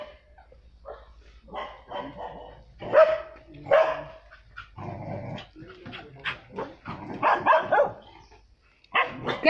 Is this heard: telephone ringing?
no